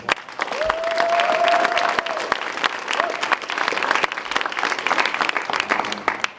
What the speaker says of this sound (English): So for Griggs, I want to clap it up.